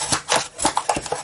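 A bone folder rubs and presses firmly along the folds of a paper gift bag, giving a run of short scraping swipes at an uneven rhythm, close and fairly loud.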